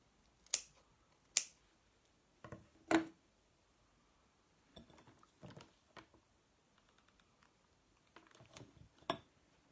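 Scissors trimming off excess craft material on a handmade Santa bottle top, a few sharp distinct snips close by with quieter small handling clicks and rustles between, no talking.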